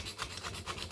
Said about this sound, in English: Using a screwdriver, probably not the best idea. It'll scrape the aluminum.